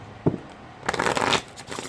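Tarot cards being shuffled by hand, with a single card snap near the start followed by a longer, steady riffling rustle, close and moderately loud, with no talking.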